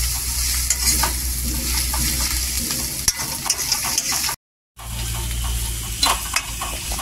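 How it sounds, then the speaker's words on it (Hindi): Pounded garlic and chili with onion fry in a pan while being stirred, a loud continuous sizzle broken by scraping strokes and a brief gap. "इसके साथ में ये भी भुजाएगा लहसुन और मिर्चा जो हमारा कूटा हुआ है"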